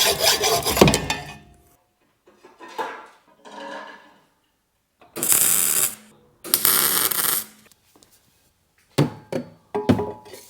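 A stock front exhaust pipe section is cut by hand. Several separate bursts of rasping sawing and scraping come with pauses between them, the loudest strokes near the middle, followed by short sharp rubs at the end.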